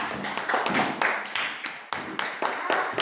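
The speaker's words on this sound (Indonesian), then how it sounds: "Tepuk tangan untuk kelompok 1 ya." A classroom group claps for its classmates in a teacher-training session, a few seconds of uneven, close hand claps and taps with voices mixed in.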